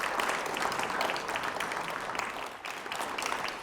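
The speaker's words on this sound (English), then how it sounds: "I thought we could give them all a round of applause together." An audience applauds mayoral and council candidates at a televised candidates' event, steady mid-level clapping throughout the short stretch, with no one speaking over it.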